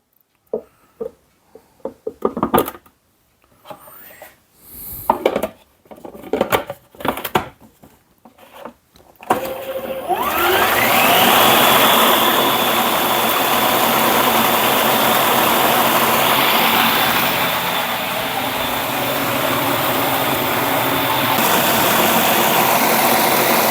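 An electric mixer normally used for whipping cream: after some scattered knocks and clatter, the motor starts and keeps up a loud, steady whirring drone for about fourteen seconds, with no talk.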